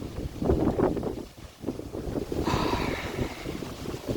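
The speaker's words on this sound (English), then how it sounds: "it's getting a little crazy windy here" Wind buffets the microphone in a steady low rumble with gusty surges, plus a brighter rushing gust about halfway through.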